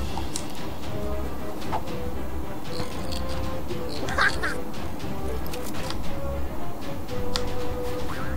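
Repeated duck-like quacking from a bird attack in the video game Mario + Rabbids Kingdom Battle, moderately loud over busy game sounds and music.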